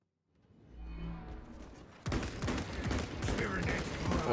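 Stalker Bolt Rifle fire in Space Marine 2, starting abruptly after a quiet rising hum and continuing as a run of heavy, closely spaced bolt shots and thuds, loud and near, with a voice talking under the gunfire.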